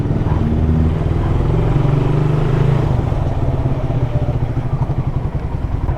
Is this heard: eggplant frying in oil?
no